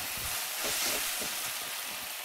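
Tomatoes frying in a pan give off a steady, broad sizzle and hiss that swells slightly midway, with no voices present.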